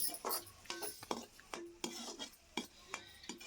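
A spoon scrapes and clinks against a pan while ginger garlic paste is stirred into fried onions, irregular strokes with a faint sizzle underneath, close and fairly quiet.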